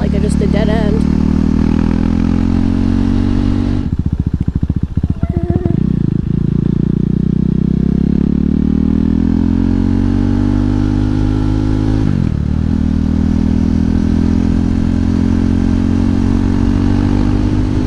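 A KTM 390 Duke motorcycle engine runs loud and close without an exhaust, rumbling and revving in waves, its raw exhaust note rising and falling throughout.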